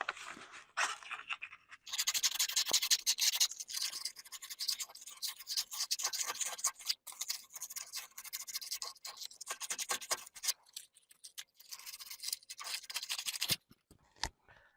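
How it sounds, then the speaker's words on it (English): Sandpaper worked by hand over a zero-turn mower's bolt, making quick, close scratchy rasping strokes in irregular bursts, with brief pauses, lasting over ten seconds before stopping. "I'm going to take a little bit of sandpaper here and take that roughness off a little bit"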